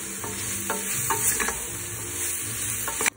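A pot of chili with beans, chickpeas, tomato, corn and spices gets stirred under a constant close sizzle, with repeated spoon scrapes and soft knocks against the pot ending in a sharp clack.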